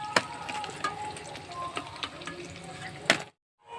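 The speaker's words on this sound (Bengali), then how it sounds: "লাল করে ভাজা হয়ে গেছে এখন আমি তুলে নিচ্ছি" Banana flower pakoras crackle in frying oil as they are lifted out, a moderate sizzle broken by several sharp utensil clicks before cutting off abruptly near the end.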